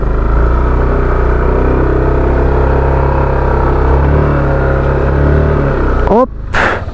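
A Yamaha NMAX v2 scooter strains uphill on a rough rural road, its engine droning loud and steady at close range under wind buffeting, then sputtering and dropping off as it stalls near the end.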